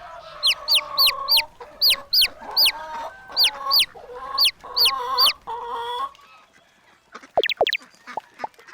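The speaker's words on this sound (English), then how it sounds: "It's chickens." Chickens cluck and squawk in a rapid series of loud, close calls, roughly a dozen bursts in quick rhythm, followed by a few sharper high cries near the end.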